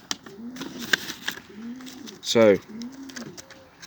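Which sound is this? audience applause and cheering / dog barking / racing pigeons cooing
racing pigeons cooing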